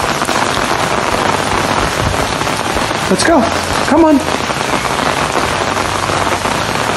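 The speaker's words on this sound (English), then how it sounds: "It's raining only a little bit." Steady patter of rain on a surface, dense and continuous, while a person speaks briefly in the middle.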